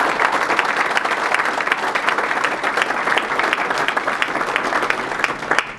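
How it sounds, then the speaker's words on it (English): Sustained, dense applause from a banquet-hall audience at a university baseball first pitch dinner, steady and loud throughout with many hands clapping, tapering at the very end. "How about a round of applause for all those folks who have joined us?"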